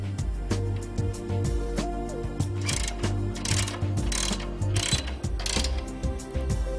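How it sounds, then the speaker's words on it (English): Rhythmic ratcheting and metallic clicks of bolts being tightened to secure a mounting plate onto a conveyor belt structure for a Flexco Rockline EZP1 precleaner, close and steady with no talk. "use the bolts provided to attach it to the conveyor"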